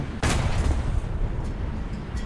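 Tank cannon shot in War Thunder striking a Tiger's running gear: a single sharp, loud blast followed by a booming rumble that lingers and decays, with faint distant reports after.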